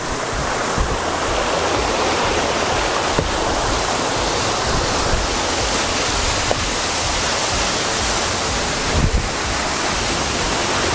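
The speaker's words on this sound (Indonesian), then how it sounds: "Nah, inilah air terjun Montel itu, bagian dari wisata Gunung Moria." Montel waterfall on Mount Muria, roughly 30 meters high, roaring as a continuous broadband rush of falling water, loud and unbroken, heard alone with no voices.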